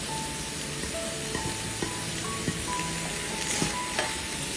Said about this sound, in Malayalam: ഇതിലേക്ക് നമ്മൾ മസാലയൊക്കെ പുരട്ടി വെച്ച കോവയ്ക്ക കഷ്ണങ്ങൾ ഇതിലേക്ക് അങ്ങ് ചേർത്ത് കൊടുക്കാം.